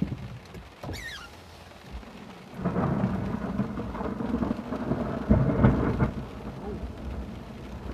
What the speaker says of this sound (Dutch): Knettert hier mooi tussen de bergen.